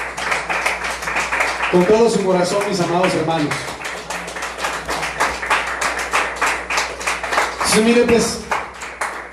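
A church congregation claps along in a steady rapid patter, offered as praise to the Lord, while a preacher keeps speaking over the clapping and pauses briefly between phrases.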